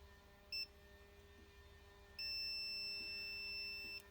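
A continuity tester on a vintage points ignition system beeps when its probe touches engine ground: one short chirp, then a longer steady tone of almost two seconds, clear and close in a quiet setting.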